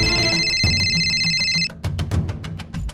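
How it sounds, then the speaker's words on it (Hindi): A mobile phone rings somewhere nearby in a home, its bright repeating electronic tone sounding steadily for over a second and a half before stopping, followed by scattered clicks and low rustling. "अरे उधर किसी का फोन बज रहा है, उठाता काहे नहीं भाई?"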